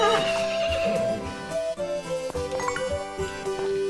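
A horse in the farming game Story of Seasons: Friends of Mineral Town gives a bright whinny over cheerful game music with chiming jingles, steady and unbroken throughout.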